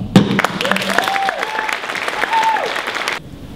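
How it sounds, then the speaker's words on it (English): An audience at a centennial city gala breaks into loud, sustained applause, a dense wash of clapping lasting about three seconds before cutting off, with a faint voice or tone rising briefly within it. "deserves a great round of applause"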